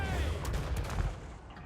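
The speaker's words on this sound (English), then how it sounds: "Let's take our cannon and retarget here on the tree man" Cannon fire in Total War Warhammer 3, heard as a dense, continuous rumble of booming shots and battle noise, loud and close.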